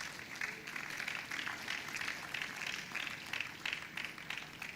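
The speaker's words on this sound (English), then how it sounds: "Please, can we put our hands together for her?" A conference audience claps and applauds steadily, a dense rustle of many hands at moderate, fairly distant level, sustained throughout with no pauses.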